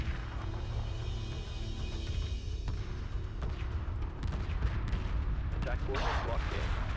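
Space combat in Homeworld 2 Remastered, with continuous heavy weapons fire and booming impacts rolling under a dense, loud battle mix, bursts thickening toward the end while a voice talks over it.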